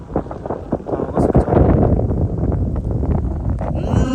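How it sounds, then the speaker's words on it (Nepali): Strong wind roars and buffets the microphone on a forested mountain trail, a loud, continuous rush that swells and stays heavy throughout. "सो खतरा हावा चलिरहेको छ है"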